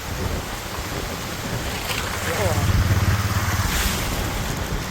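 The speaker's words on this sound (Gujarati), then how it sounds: "ભાઈ રસ્તામાં પાણી હાબાટી બોલે" Floodwater rushes across a village road after heavy rain, making a loud, steady broadband roar that swells slightly midway and continues without a break.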